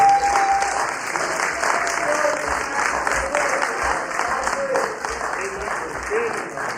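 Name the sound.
applause for board candidates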